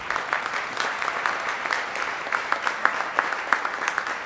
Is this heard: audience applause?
yes